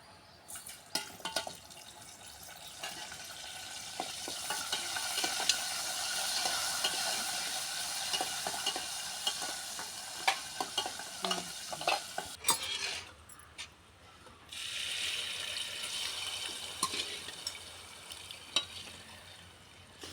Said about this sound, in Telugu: తాలింపు అయితే పెట్టేస్తున్నానండి